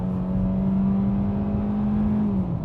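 A 2017 Hyundai Elantra accelerating in Eco mode, heard from inside the cabin as a steady engine drone that climbs slowly in pitch, then dips slightly near the end as the transmission upshifts early.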